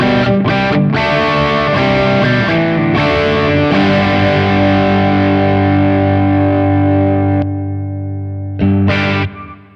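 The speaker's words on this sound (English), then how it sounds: "I'm going to hit this with the tube screamer now" An electric guitar driven through a Tube Screamer overdrive into an amp model in a Sonicake Matribox rings out in loud, saturated sustained chords, with a long decaying note and a final short strum.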